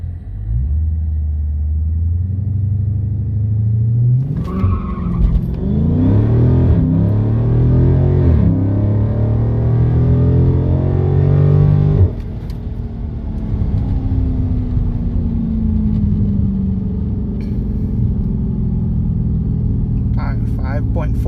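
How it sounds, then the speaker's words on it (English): A Dodge Charger Scat Pack, just back from a throttle body cleaning, launches hard from a stop toward 60 mph: a loud, deep engine roar climbs through the gears, then eases off into a lower rumbling cruise, heard from inside the car. "Let's do a 0 to 60 run."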